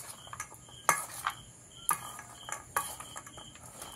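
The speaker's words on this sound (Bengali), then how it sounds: "এবারে আমি জিনিসগুলোকে খুব ভালো করে মেখে নেব।" Aloo kabli ingredients being mixed in a bowl, with sharp clinks and scrapes of a spoon against the bowl at irregular intervals over a soft background hiss.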